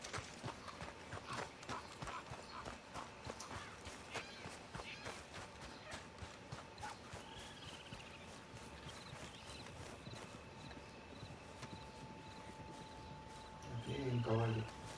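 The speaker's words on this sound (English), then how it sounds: "Aquí hay un caballo." Horse hooves clip-clop in a steady, close rhythm across Red Dead Redemption 2 gameplay, with a brief whinny near the end and game ambience underneath.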